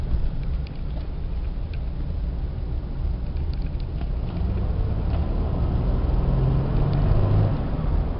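A 1998 Buick Park Avenue accelerates on a road drive, its engine rumbling as it pulls, with steady road and wind noise building toward the end, heard from inside the cabin.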